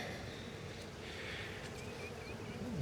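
Steady, dense buzzing of many bees up close, a continuous hum with no talking.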